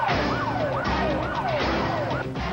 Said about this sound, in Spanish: El ruido de ambulancias y la movilización de los servicios de emergencia se trasladó a Amán, la capital jordana.